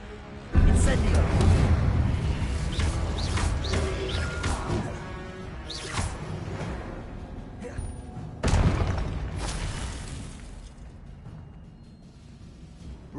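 Incendio fire spell cast in Hogwarts Legacy, a sharp burst at the start followed by a rumbling whoosh, then a second loud blast partway through that fades away, with voices briefly heard.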